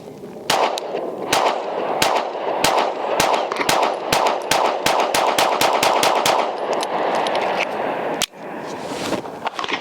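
A Sig Sauer X Macro pistol fires 124 grain rounds in a rapid string of about twenty sharp, loud cracks, evenly spaced then speeding up, with one brief pause near the end.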